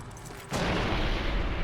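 A bomb detonates in Fallout: New Vegas Dead Money, a sudden loud blast that erupts after a quiet moment and rolls on as a sustained, heavy roar through the rest of the moment.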